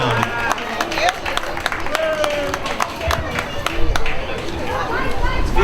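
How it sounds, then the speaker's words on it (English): An audience at a municipal event applauds with a thick, continuous patter of clapping, mixed with lively crowd chatter and murmuring voices throughout. "Please everyone give a nice round of applause for Donna."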